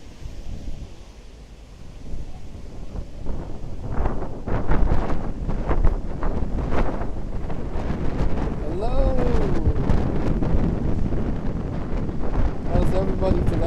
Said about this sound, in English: very breezy here today